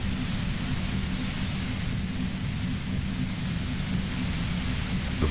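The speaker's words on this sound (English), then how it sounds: "The violent white noise becomes even more overwhelming closer to the compressor." Loud, steady roar of white noise from a compressor machine in the video game Disco Elysium, a dense unbroken hiss with heavy low rumble filling the whole stretch without pauses.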